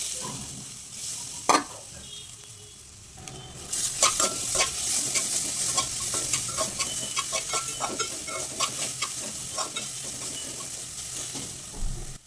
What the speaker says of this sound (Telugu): కొద్దిగా పచ్చివాసన పోయే వరకు కొబ్బరిది వేపుకోవాలి గీలో